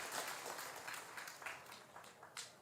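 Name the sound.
audience applause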